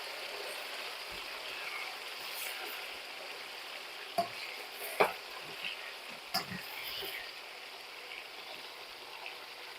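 Beef and broccoli stir-frying in a pan give a steady, soft sizzle throughout, with a few brief clicks and clatters of utensils standing out near the middle.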